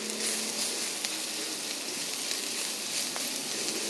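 Chopped onions with prawns sizzle in a hot oiled pan as they are sautéed for a Kerala-style prawn fry, a steady close crackle that runs evenly throughout.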